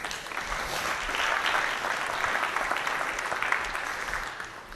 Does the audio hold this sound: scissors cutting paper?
no